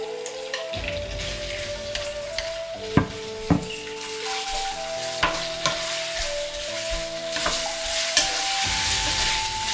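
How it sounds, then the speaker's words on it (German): Steady sizzling of chicken thigh meat frying in a hot pan with spring onion, with occasional sharp clinks and scrapes from stirring throughout. "Das Fleisch in die Pfanne geben."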